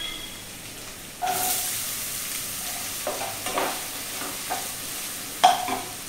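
Chopped onion sizzling and frying in a pan for a padavalanga (snake gourd) thoran, with steady hiss and a few stirring scrapes and clatters, fairly close and without talk.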